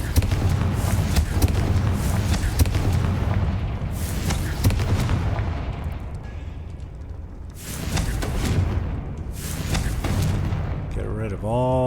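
Fire-blast spell explosions in the video game Hogwarts Legacy, several heavy booming blasts with roaring, crackling decay over a dense layer of game sound effects.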